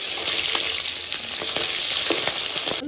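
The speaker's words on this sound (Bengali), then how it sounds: "এদিকে মাছগুলো ভাজতে থাক" Tangra fish fry in hot oil in a pan, a continuous close sizzle with small crackles and pops throughout, ending in a brief clatter.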